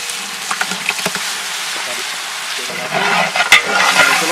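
Chopped onion with ginger garlic paste sautéing in hot oil for mushroom biryani, a soft continuous sizzle with scattered stirring clicks, getting louder and busier toward the end.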